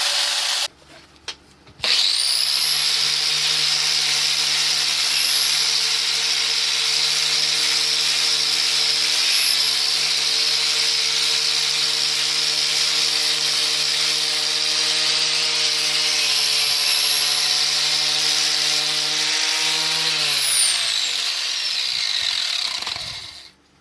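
Angle grinder with a rebuilt gearbox housing running unloaded, a loud steady high-pitched motor whine held for about eighteen seconds after a brief start, then spinning down to silence.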